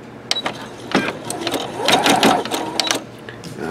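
A Singer Futura Quintet sewing machine embroiders with metallic thread, its rapid rhythmic needle clatter and motor hum running close and steady with sharp ticks throughout, no talk.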